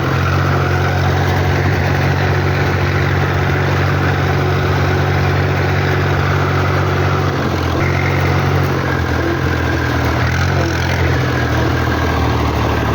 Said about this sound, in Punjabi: ਸਾਊਂਡ ਚੈੱਕ ਕਰੋ ਟਰੈਕਟਰ ਦਾ